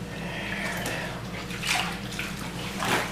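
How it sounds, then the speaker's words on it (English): A down quilt being kneaded and pressed under water in a tub while washed with Nikwax Down Wash, giving soft continuous sloshing and gurgling with two fuller swells of splashing near the end. "So you'll need to knead this, open hands, get it down in the water"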